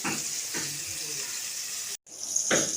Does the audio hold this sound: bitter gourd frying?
yes